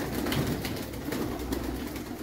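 Pet pigeons in a loft coo softly in low, repeated murmuring calls, close by and fairly quiet, with no talking over them.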